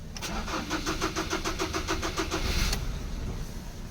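Ford Ranger engine cranks but fails to start, the starter whirring in a fast even rhythm of about a dozen beats before stopping abruptly, leaving a low rumbling background, heard close.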